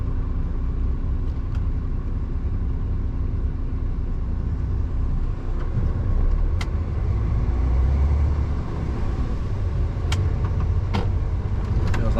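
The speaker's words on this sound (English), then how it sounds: "Gotta wait for this van to come through." A van passes a waiting truck on a narrow road, a steady loud engine rumble that swells and fades as it drives by, with faint clicks over the drone.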